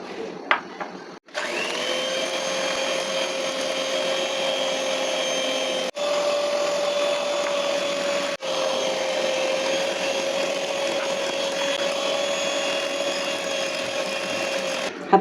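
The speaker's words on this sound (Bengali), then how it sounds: "প্রথমে এখানে 3টা ডিম দিয়ে সাদা অংশটা ফেটাবো।" Egg whites from three eggs being beaten for cake batter, likely with an electric mixer: a steady, whining motor hum runs continuously after a short start, broken twice by brief dips.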